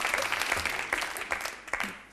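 Studio audience applauding on an Italian TV show, a dense steady patter of clapping that carries on for a couple of seconds and fades a little toward the end.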